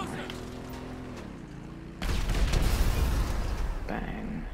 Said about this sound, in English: Time to use those explosives!